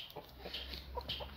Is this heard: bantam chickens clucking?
yes